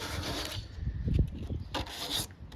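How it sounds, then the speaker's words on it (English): Sandpaper is dragged by hand across a Kia car door panel, giving a close, soft scraping rub in several uneven strokes with no talking. "You can also take the front of your sandpaper like this and just drag it across."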